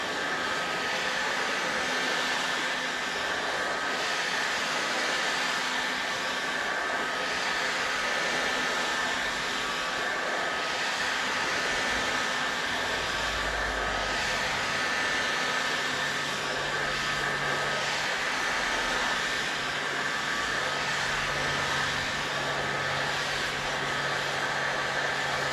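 A heat gun warms the inside of a Traxxas X-Maxx RC truck tire, blowing a steady, close, whining hiss with a constant motor tone that runs without pause.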